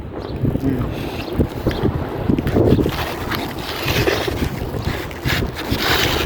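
Steady wind rushing and buffeting against the microphone, with a low rumbling roar throughout and no clear voices.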